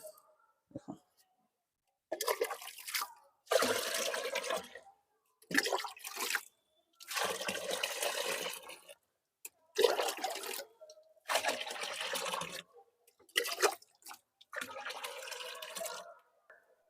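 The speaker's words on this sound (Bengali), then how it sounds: "আমি এখানে 10 মগ জল নিয়ে নিচ্ছি আর একটা পাত্রের মধ্যে" Water is scooped with a mug and poured into a container to dilute liquid kitchen fertilizer, making a run of repeated splashing pours, each a few seconds long with short silent gaps between them.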